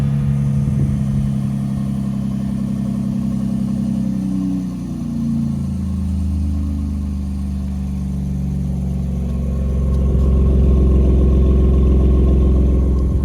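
A 2020 Ford F-150 2.7 EcoBoost pickup with an AWE 0FG exhaust idles loudly and close, its low hum sliding down in pitch and settling into a deeper, steady rumble.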